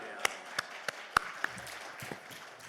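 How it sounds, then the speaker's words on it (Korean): Church congregation at a Korean prayer retreat service applauding, a short burst of scattered, sharp claps in uneven rhythm, moderately near, with faint voices underneath. "하나님 앞에 영광의 박수 올려드립니다"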